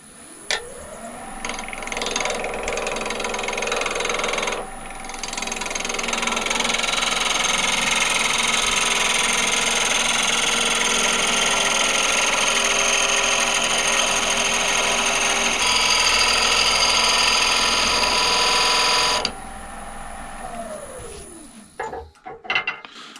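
A wood lathe spins up and runs steadily while a tool recuts the outside tenon on a lidded box, a continuous whirring hum with cutting noise that winds down at the end, no talking.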